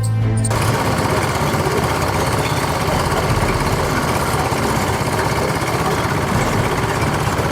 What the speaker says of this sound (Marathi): ही रिक्षा इंग्रज काळातली की कुठली सगळी इंग्रज याचा पूर्ण इंजिन खुललाय बघा तुम्ही